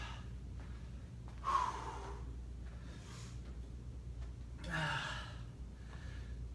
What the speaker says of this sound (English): Catch your breath with a few breaths.